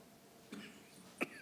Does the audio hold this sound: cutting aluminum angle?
no